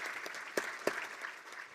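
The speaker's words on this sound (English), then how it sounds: "Give them a round of applause." An audience at a gala dinner applauds its corporate sponsors in a fairly faint, thin round of clapping with a couple of sharper claps standing out.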